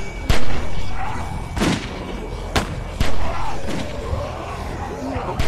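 Gunshots ring out in The Walking Dead Season 2 video game, several sharp, booming reports spaced irregularly a second or so apart. Players talk and shout over them.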